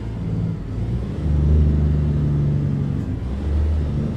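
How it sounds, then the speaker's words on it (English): In American Truck Simulator, a 2018 Volvo VNL truck's engine brake gives a loud, steady low rumbling drone that swells slightly partway through, with no talking. "Definitely not the worst engine brake that you can hear, but it's also not the greatest."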